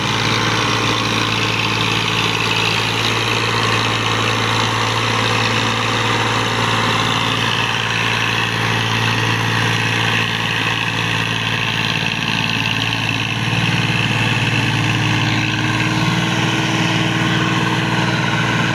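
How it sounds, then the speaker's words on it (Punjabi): A Massey Ferguson 240 tractor engine labors under the load of an 18 ft trolley, a steady loud low drone with a constant mechanical hum, heard close and alone without talk. "ਟਰਾਲੀ 18 ਫੁੱਟੀਆ ਟਰੈਕਟਰ ਤੋਂ ਨਹੀਂ ਖਿੱਚ ਹੁੰਦੀ"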